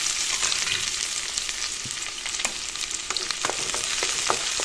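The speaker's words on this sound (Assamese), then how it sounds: "অলৰেডি কেৰাহীত তেল দিছোঁৱে মই, গৰমো হৈছে তেলখিনি। এতিয়া পিঁয়াজ আৰু জলকীয়া দিছোঁ।" Sliced onions and green chilies sizzle in hot oil in a kerahi wok, a constant close crackle with scattered spatters and light scraping as they are stirred, and no talking.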